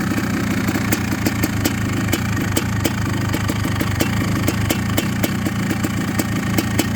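A Honda CR500 motorcycle engine idles close by, a loud, steady rumble with a rapid, regular ticking pulse running through it from start to finish.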